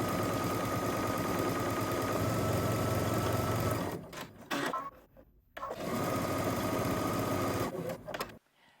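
A sewing machine quilts fabric for a ruffle tote bag, running in a steady, loud mechanical whir that stops briefly around the middle, then resumes and stops again near the end.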